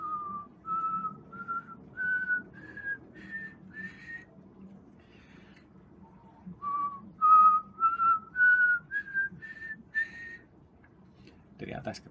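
A person whistles an ascending do-re-mi scale of short, slightly wavering notes, pausing before whistling the rising scale again, close and moderately loud over a low background rumble.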